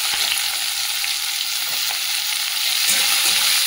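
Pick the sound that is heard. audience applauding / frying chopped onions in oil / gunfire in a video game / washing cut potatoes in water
frying chopped onions in oil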